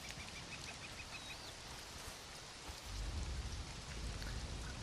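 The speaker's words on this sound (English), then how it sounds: "I love the rain effects in this game" Rain effects in the Dune video game, a steady patter of raindrops with faint bird chirps, then a deeper rumbling wash of heavier rain from about three seconds in, quiet and with no talking.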